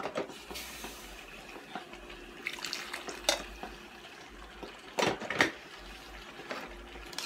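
Water hits pork and chicken cooking for curry, giving a few sharp hissing sizzles, the strongest near the end, over quiet background noise.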